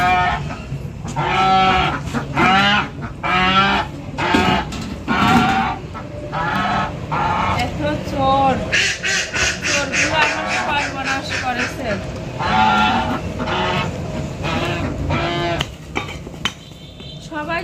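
Farmyard ducks let out of their pen to be fed, quacking in repeated loud nasal bursts that come in clusters throughout, close by, with a person talking over them.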